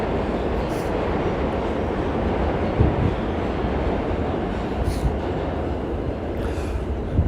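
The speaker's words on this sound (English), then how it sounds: "You can hear the subway under us." A New York City subway train rumbles underneath the street with a steady, dense low roar that holds level throughout, with faint clanks and no speech over it.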